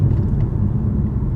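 A BMW M5 CS engine gives a deep, steady, close rumble, low and even for a brief moment with no other sounds.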